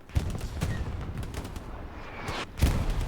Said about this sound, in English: Artillery is hammering down on the area